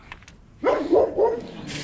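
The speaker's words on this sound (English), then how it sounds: "We got a barking dog" A dog barks in a quick burst of three or four yelping barks close by, after a brief quiet moment, with faint background noise.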